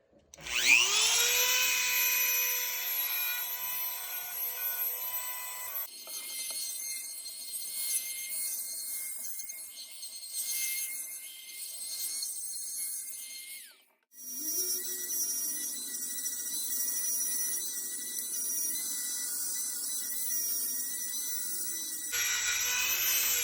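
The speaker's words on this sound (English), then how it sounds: "So what I'm going to do is just start smoothing this out and polishing it up" A high-pitched sanding drum whines and grinds against the metal loading port of a Benelli M4 shotgun in long passes, stopping briefly between stretches of steady rasping.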